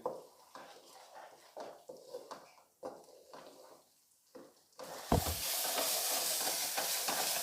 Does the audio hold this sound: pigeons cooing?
no